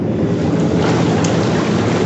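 Air jets running in a 72-inch, 30-jet hydro massage bathtub, a loud, steady, close rushing bubbling roar with no pauses and no voices.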